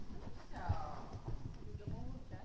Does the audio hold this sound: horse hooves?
yes